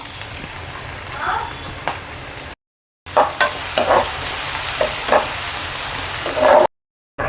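Onions sautéing in a pan for mutton curry, a steady close sizzle with repeated scraping stirs and two short silent breaks.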